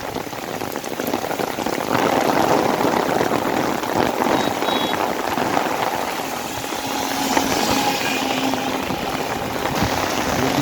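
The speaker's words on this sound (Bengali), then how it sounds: "একটা গাড়ি যাচ্ছে" Steady heavy rain patters all around while a car engine rumbles faintly beneath it, rising slightly as it passes nearby.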